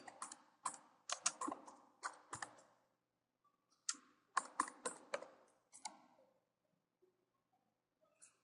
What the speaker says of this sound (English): let's use the keyboard for that